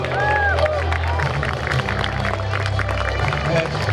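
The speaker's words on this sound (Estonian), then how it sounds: "ja aplaus." Applause from an audience at an Estonian prize-giving, with moderate clapping mixed with crowd murmur and a few brief tonal sounds, continuing throughout.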